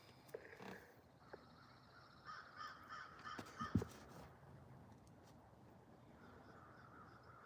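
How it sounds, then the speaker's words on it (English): Crows caw in a few scattered calls, mostly between two and four seconds, over a noisy outdoor background near a garden plot; the calls are moderately distant and irregular, with no talking. "The crows are around,"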